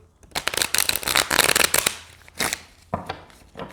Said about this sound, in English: let's see how it does with a regular old card shuffle here